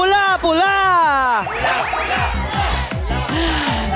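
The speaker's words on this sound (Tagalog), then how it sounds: "bigyan niyo ako ng pangmalakasang hiyawan!" A studio audience at a Filipino TV show yells and cheers loudly in a continuous burst of shouting, with some high pitched voices rising and falling.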